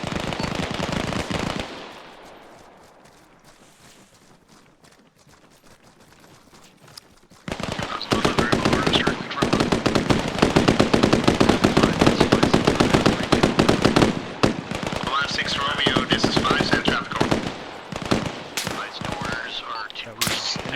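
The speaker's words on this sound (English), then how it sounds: "That was enemy shots from the trees right in front of us." Enemy gunfire in the military game Arma Reforger, coming from a treeline directly ahead. Dense, loud bursts of rifle and machine-gun fire crackle steadily for most of the stretch after a short quiet opening, with occasional faint speech.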